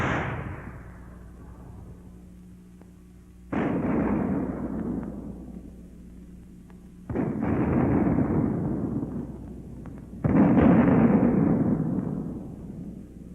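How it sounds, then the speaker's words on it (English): A World War II infantry mortar fires smoke shells: three booming reports spaced a few seconds apart, each a sharp thud followed by a long rumbling decay, all heard alone without talk. "The mortar also fires smoke shell."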